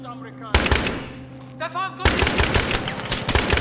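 Machine-gun fire in Battlefield 3: loud, rapid automatic bursts, one short burst followed by a longer sustained stream, close up, with a voice speaking briefly.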